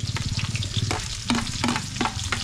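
Ginger, garlic and onion sauté in a hot pan with a dense, steady sizzle, and occasional stirring scrapes cut through it. No talking.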